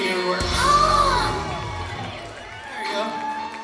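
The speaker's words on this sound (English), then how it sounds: "there's a lot of screaming everywhere" A large crowd screaming and cheering at a live event in San Diego, loud shrill whoops and shouts swelling then easing, with voices mixed into the din.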